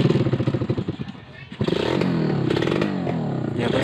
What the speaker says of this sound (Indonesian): Minusnya ini motor hanya di bagian catnya aja, sama ini knalpotnya bolong ya, jadi suaranya jelek.